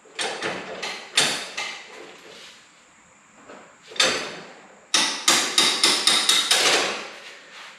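A hammer striking metal while a Farmall Cub tractor is taken apart, the lift being knocked off: about a dozen sharp, ringing blows in irregular bursts, with a fast run of hits near the end.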